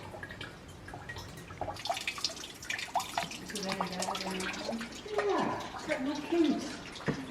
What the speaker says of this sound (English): just like that, we have water filling up here at the very top